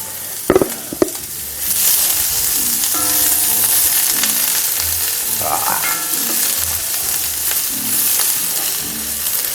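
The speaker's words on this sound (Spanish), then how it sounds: "Acá ya mismo ya le ponemos la cebolla." Onion frying in a hot pan for a chorizo parrillero dish, a loud, steady sizzle with a few clanks of a utensil at the start and stirring throughout.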